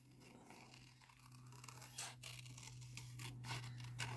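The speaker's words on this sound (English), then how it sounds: "Let's just get it over with and just fussy cut this thing," Scissors fussy-cut around a printed paper card piece for a holiday card, making soft, close snips and paper rustles that come in a short cluster over a low steady hum.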